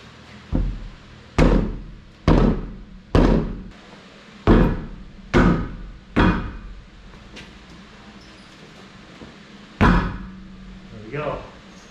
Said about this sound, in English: Try the big hammer.